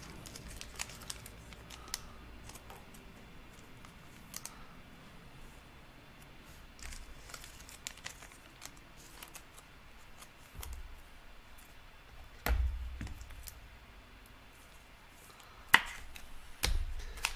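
A trading card pack is torn open and its cards handled, with quiet scattered tearing, crinkling and rustling clicks that grow louder in a few brief bursts near the end.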